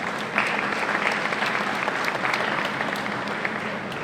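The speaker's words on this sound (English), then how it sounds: "So please help me to give a round of applause to the Shihan guys." A hall audience at a karate championship gives the Shihan team a sustained round of applause, dense and steady throughout with no break.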